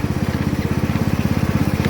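A $100 John Deere riding lawn mower engine idles steadily with a rapid, even chugging pulse, loud and close, with no talk over it.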